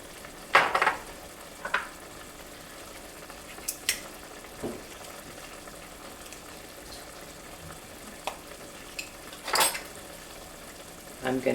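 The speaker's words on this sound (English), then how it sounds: "I like them to cook in with the onions and the beef." Chili of onions, beef and chili powder cooking in a pot gives a low, steady sizzle, with scattered spoon clinks and stirring knocks against the pot and brief soft voice sounds.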